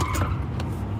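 A car passes close and fast, its engine and tyre noise loud and brief with a quick whoosh.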